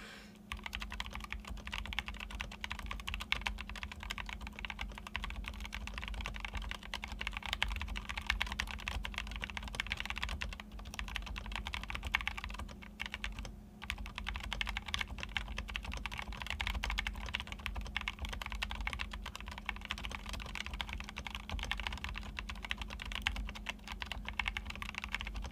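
Typing on a DZ65 keyboard with a rosewood case, Lavender switches and NicePBT Enchanted Forest keycaps, a steady, close, quiet stream of soft keystroke clacks with no talk.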